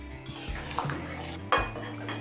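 Pumpkin stirred with a little hot water in a cooking pan, giving soft scraping and clinking of a utensil against the pan, with a sharper knock near the end; no talking.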